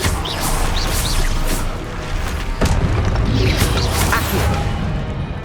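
Spell-casting blasts from the video game Hogwarts Legacy, a dense, loud run of booms, crashes and whooshing impacts with a sharp hit near the middle, layered over continuous game noise.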